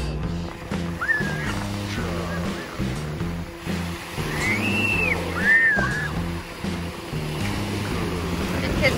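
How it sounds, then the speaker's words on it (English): Ocean waves wash onto a beach in the Netherlands on a hot summer day, a steady broad surf hiss with children playing in the water, faint distant voices and a few brief high chirps. "Kids are having fun playing in the ocean on a very hot summer day."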